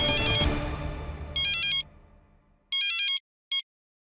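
A phone ringing, two electronic ringtone bursts followed by a brief third blip, each a bright warbling tone with silence between, clear and close after a fading musical swell at the start.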